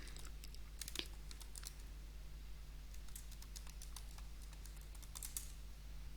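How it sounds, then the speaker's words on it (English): Someone types a password on a computer keyboard in a quiet room, with short bursts of crisp key clicks in an uneven rhythm over a faint steady hum. "Now let's type the password."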